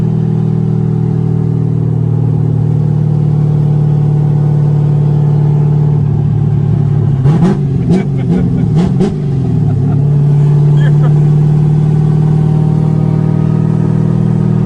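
A race car engine breathing through a 3-inch dump tube with no muffler, a loud steady idle drone broken by a short burst of sharp revs in the middle, then settling back to idle; voices talk faintly over it.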